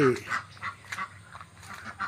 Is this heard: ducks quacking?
yes